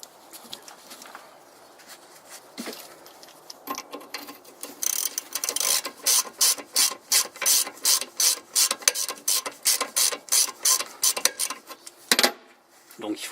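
A wrench ratchets in a steady run of about fourteen crisp clicks while undoing the front shock absorber on a Jeep Cherokee XJ, close and fairly loud after a few scattered knocks, with no talking.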